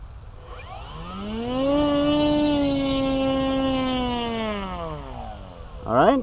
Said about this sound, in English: let's do a engine run up